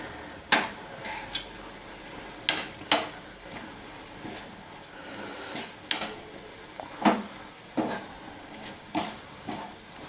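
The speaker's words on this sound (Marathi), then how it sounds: "तर ही सर्व मी मिक्स करून घेणार आहे." Spoon stirring a coconut mixture in a pan for Nagpur-style orange barfi, with a dozen or so sharp scraping clinks against the metal at irregular intervals and no talk.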